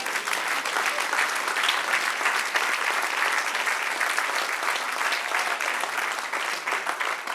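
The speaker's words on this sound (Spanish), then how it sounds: "Dale un aplauso al que reina." Sustained applause from a church congregation during a Spanish-language sermon, steady and dense throughout, with no talk over it.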